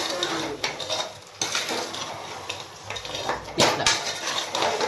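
Goat head curry stirred in a metal pot, a ladle scraping and clanking against the sides in repeated strokes over a soft sizzle, close and fairly loud.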